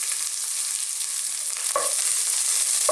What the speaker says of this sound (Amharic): መጀመሪያ ግን ሁሉ ጊዜ ጠንካራ አትክልቶችን ነው መጀመሪያ መጥበስ ያለብን